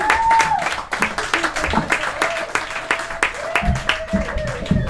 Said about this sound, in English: keep your hands clapping for your next comedian coming to the stage